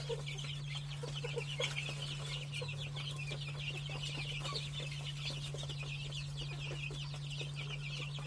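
Farm chickens clucking steadily as they peck at freshly given feed in a home coop, a continuous moderate chorus over a constant low hum, with no talking.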